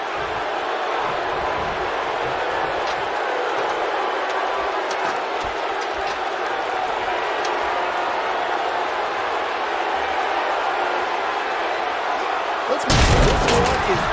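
A large arena crowd in the WWE 2K22 wrestling video game gives off a steady roaring murmur throughout, ending in a sudden louder burst like a slam or impact near the end.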